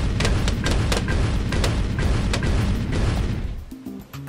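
Bomb blasts in a Flash video game, a dense continuous barrage of loud booms and bursting pops that rolls on without pause, then thins out near the end.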